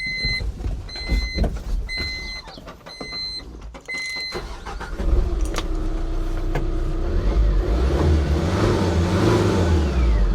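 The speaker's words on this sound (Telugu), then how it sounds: "ఒకసారి మీకు వెహికల్ కూడా స్టార్ట్ చేసి చూపిస్తాను చూడండి." A Tata Intra V30 pickup's engine starts about halfway through, following some clicks and knocks, then settles into a loud, steady run with rising revs close by.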